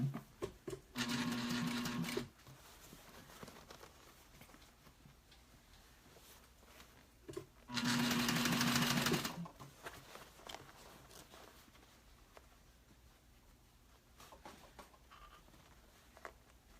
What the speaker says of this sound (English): we're going to top stitch, attempt to top stitch some of this bag